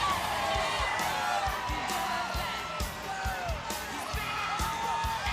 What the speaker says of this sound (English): Listen to this crowd react.